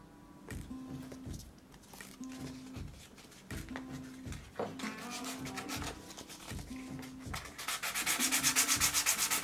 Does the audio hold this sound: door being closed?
no